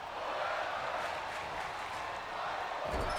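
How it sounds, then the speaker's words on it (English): Wrestling arena crowd in WWE 2K25 roaring steadily as a steady wash of cheering noise, broad and continuous, with a brief lower rumble swelling near the end. "The crowd trying to get Sami Zayn back into this fight."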